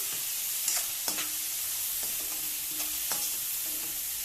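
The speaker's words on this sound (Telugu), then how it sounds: "అలా వేపుకుంటూ ఉండాలండి దోరగా వచ్చేటట్టు." Onions and urad dal vadiyalu fry in a pan with a steady close hiss, while a spoon stirs and scrapes against the metal in several separate strokes.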